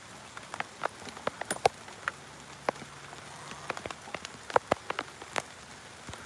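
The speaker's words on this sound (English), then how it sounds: "It's raining hard." Heavy rain drums steadily on a surface outdoors, a dense hiss broken by many sharp drips and patters close by, with no talk.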